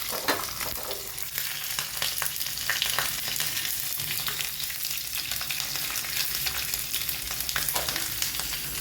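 Chillies sizzle steadily in hot oil for a South Indian tempering, with continuous broadband crackle and occasional stirring scrapes, close and moderately loud, no voices.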